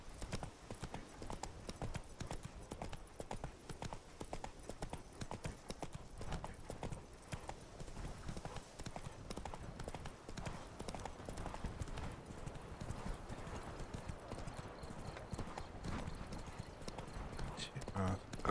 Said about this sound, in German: Reiten und reiten und reiten.